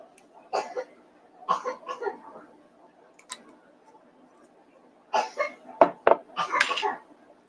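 Indoors, a woman coughs in several short harsh bursts at intervals amid quiet room noise, with light clatter between the fits.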